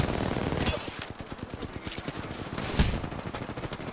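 Wingman pistol fire in Apex Legends: a quick string of sharp, close shots, with one louder crack near the end over the game's low background noise.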